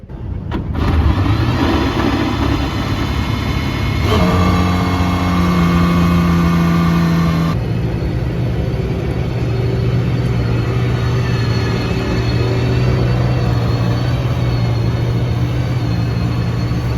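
A Cosworth V12 hypercar engine runs loud and close at a 2024 car week show, its steady drone stepping through shifting pitches as it revs and settles.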